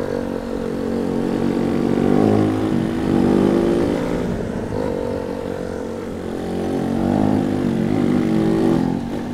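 Small motor scooter engine revving up and down in a steady, continuous drone with rising and falling pitch, close and fairly loud, no voices.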